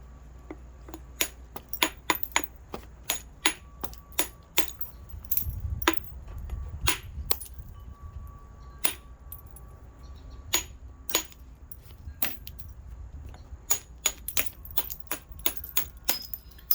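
Flint knapping on a flat Keokuk chert spall, trimming the edges toward a blade shape: sharp, glassy clicks and taps come in irregular bursts at close range, with no talking.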